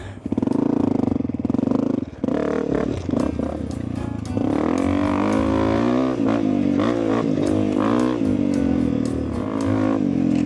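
A Honda XR250 dirt bike being ridden through the desert, its engine droning loud and close throughout with shifting pitch as it revs and eases, joined by wind noise and brief bumps.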